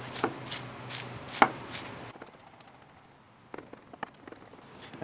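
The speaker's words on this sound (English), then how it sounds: "Slice a lime in half, and then we want some cilantro." A knife cuts through a lime on a cutting board, a few sharp close taps and chops followed by quieter scattered knocks and board clicks, with no talking.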